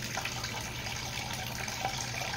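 Water from a tap runs steadily into a pot, a constant close splashing rush with no pauses and no talking.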